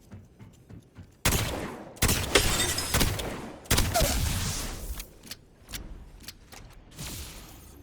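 Shotguns fire in a video game weapon showcase: several loud, sharp blasts spaced a second or so apart, each with a noisy decaying tail, followed by a run of quicker, fainter shots and mechanical clicks.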